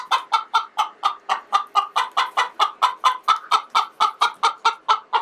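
Chickens in an 8x12 coop give a run of steady, rhythmic clucks, about four per second, fairly close with nothing else behind them.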